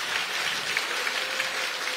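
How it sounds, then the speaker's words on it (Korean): At the dissolution ceremony of the Democratic Party's central election committee after the 21st presidential election, a hall audience gives steady applause, a faint, distant, even patter of many hands. "여러분 큰 박수 부탁드립니다."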